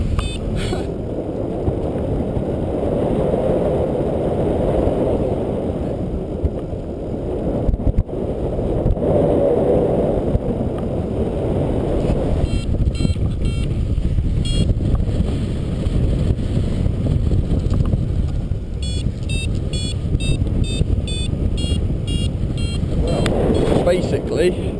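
Strong, continuous wind buffeting the microphone during a paragliding flight at Butser, with low rumbling gusts and a faint whistle; occasional speech-like sounds underneath.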